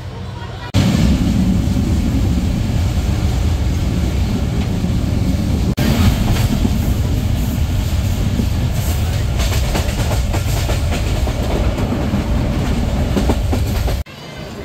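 The Titumir Express, running a new white rake on a Bangladeshi line, rolls at speed with a loud, constant rumble and rhythmic clickety-clack of wheels on rail joints.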